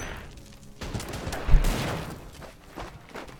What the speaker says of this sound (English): Hear that MP40, just a beautiful sound.